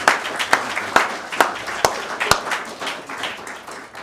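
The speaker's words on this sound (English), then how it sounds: "you can clap for that" Mourners at a funeral service clap briefly, a handful of distinct claps in a slow, fairly even rhythm that thins out and fades into room murmur.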